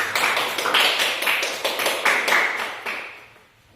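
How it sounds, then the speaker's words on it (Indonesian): A classroom of students claps in unison, several rhythmic bursts of hand clapping, close and loud, tapering off at the end. "Sekarang kita berikan aplaus, tepuk tangan"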